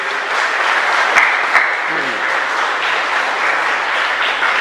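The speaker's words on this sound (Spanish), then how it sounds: "Yo creo que son merecedores de un fuerte aplauso en gratitud." Congregation applauding inside a church chapel during Mass, a steady, dense round of clapping that fills the space and holds at an even level with no voices over it.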